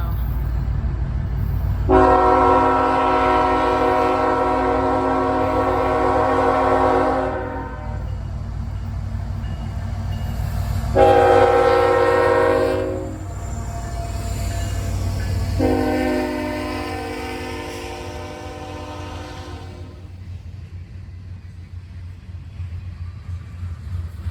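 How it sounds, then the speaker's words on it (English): A mixed freight train rumbles steadily past in Ohio while its horn sounds in three long, loud blasts, the last one longer, over continuous wheel and engine noise. "Mixed freight train."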